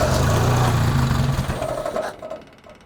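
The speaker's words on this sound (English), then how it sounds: "Now I'm just going to see if this will idle, and then if I've got any sort of throttle." A Toyota Celica RA28 fastback's engine runs roughly as it tries to idle, a loud low rumble that fades and sputters down toward stalling over a few seconds.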